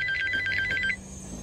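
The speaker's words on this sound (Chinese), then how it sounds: "一阵电话铃声将他从睡眠的临界点中拉了回来" A telephone ringing sound effect in an audiobook, a short burst of rapid electronic trilling rings that cuts off after about a second, leaving a faint hum.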